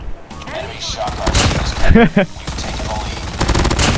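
Rapid bursts of Fennec SMG fire in the mobile shooter Call of Duty Mobile, loud and close, mixed with game effects and a player's voice talking over the action.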